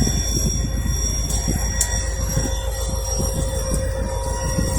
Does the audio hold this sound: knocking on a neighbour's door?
no